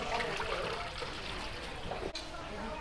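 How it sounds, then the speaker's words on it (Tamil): Water is poured into a cooking pan set on a stove to start a Tamil fish kaaram, making a steady close splashing trickle that runs throughout. "தண்ணி ஊற்றுறோம்."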